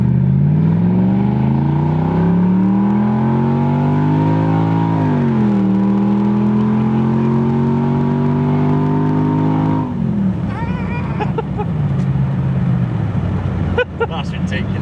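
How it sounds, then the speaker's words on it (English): Jaguar XJ8 V8 with the whole exhaust cut off revs up loud and close, its deep growl rising and dipping, then holding a throaty drone as the car drives on. "whereas now it sounds like a muscly American V8"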